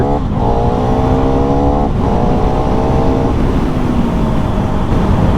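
A KTM Duke 390 motorcycle engine revs hard and steady during a wheelie attempt, with rising harmonic tones that drop and climb again over a loud continuous roar, close and without speech.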